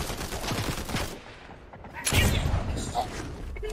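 A ship's cannon in Fortnite fires a rapid burst of booming shots in a quick cluster, followed by a second heavy volley, loud and close with a rumbling tail.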